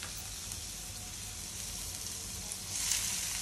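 Onions frying in a pan for aloo tikki chaat, a steady close sizzle that swells slightly louder near the end.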